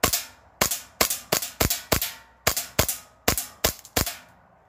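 SSP5 airsoft pistol running on green gas with 0.3 g BBs, fired eleven times in a steady, fairly quick rhythm during a chronograph test, each shot a sharp, close, loud snap with a short decay and no talking.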